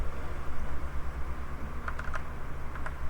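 A few quick keystrokes on a computer keyboard near the end, faint and brief over a loud constant low hum and background noise.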